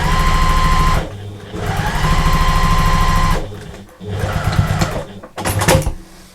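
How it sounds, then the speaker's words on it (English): Sewing machine top stitching to close the turning gap on a large fabric storage bag, running in steady bursts of rapid stitching with short pauses between, loud and close. "then we'll just do a neat top stitch"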